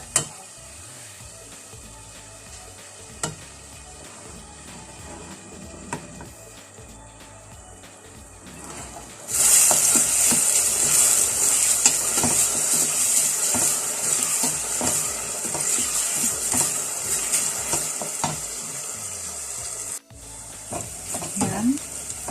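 Onions sauté in a pan for molokhia with chicken, starting with quiet stirring and then breaking into a loud, continuous sizzle with scraping stirs that fades near the end.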